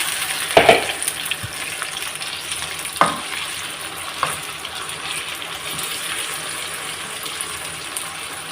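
Chicken dropped into a pan of frying onions for an Arabic dish, a few sharp splashy hits and clatters at first over a steady, loud sizzle that carries on alone without voices.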